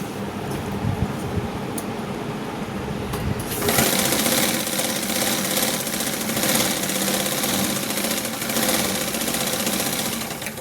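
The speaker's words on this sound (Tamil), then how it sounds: "இப்போ இதே மாதிரியே இன்னொரு தையல் வந்து இன்னொரு ஸ்டிச்சிங் கொடுத்துருங்க." A sewing machine stitches the lining of a blouse, starting as a quieter hum and then running loud and steady with a continuous close-up whirr for the rest of the stretch.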